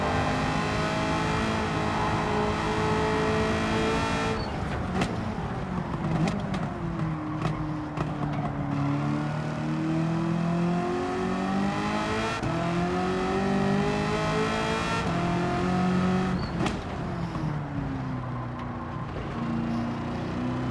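Racing car engine in Gran Turismo 7 revving hard and steadily for the whole stretch, pitch rising and falling through gear changes and throttle lifts while sliding, loud and close with faint tire noise.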